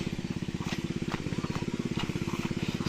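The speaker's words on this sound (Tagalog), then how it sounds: "patayin na natin yung makina" Small engine, likely a water pump motor used for irrigating plants beside a river, chugging in a steady rapid rhythm close by, loud and continuous with no clear cutoff.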